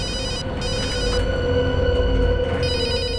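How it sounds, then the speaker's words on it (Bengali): Telephone ringing with a repeated electronic bell-like ring in steady bursts, clear and prominent with no talking. "অভিজিতের ফোন"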